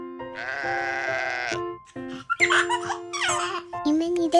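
A cartoon sheep bleats in a children's animation, a long sustained cry with cheerful music and sound effects around it, and short bursts of other voices and effects follow.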